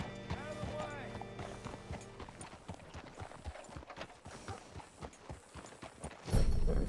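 Horse hooves clip-clopping at a walk in Red Dead Redemption 2, a rhythmic run of close hoof strikes with background game ambience and a loud burst near the end.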